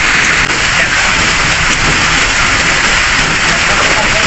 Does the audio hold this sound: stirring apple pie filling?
no